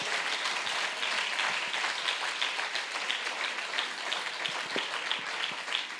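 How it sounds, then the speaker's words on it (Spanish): A congregation at a church convention service claps for the Lord, a steady, moderately loud wash of applause that carries on unbroken throughout. "¿Alguien tiene un aplauso para el Señor en esta tarde?"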